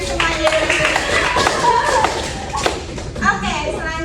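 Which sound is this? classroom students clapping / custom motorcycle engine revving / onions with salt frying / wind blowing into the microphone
classroom students clapping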